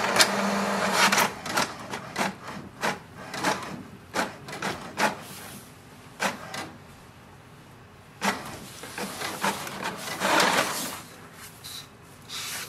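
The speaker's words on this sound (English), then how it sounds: "wait for the printer to print the printer information page" An HP DeskJet 2752e inkjet printer works close by, printing an information page, its print head whirring and clacking in rhythmic bursts, with brief pauses between passes as the page feeds through.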